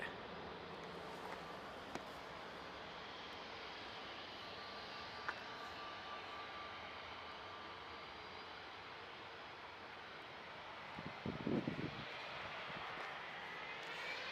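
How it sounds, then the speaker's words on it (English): An EasyJet airliner pulls onto the runway at Manchester Airport, its jet engines giving a steady distant roar that holds even throughout, with a slight swell of rumble near the end. "EasyJet pulling on to the runway now."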